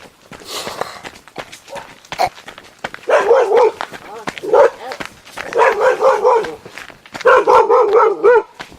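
Dogs bark in repeated bursts on a Pembrokeshire country walk, loud and close, with short quieter gaps between volleys and faint footsteps underneath.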